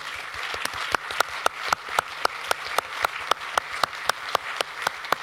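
An audience claps during a speech about the real estate industry, a moderate patter of applause punctuated by sharp, close, regularly spaced claps, likely one person near the microphone, sustained over several seconds.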